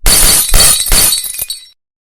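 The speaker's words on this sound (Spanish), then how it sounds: "Sonido de cristales rompiéndose resonó por todas partes." Glass shatters loudly in three quick successive crashes of breaking pieces, each burst bright and close, ending with scattered tinkling fragments before silence.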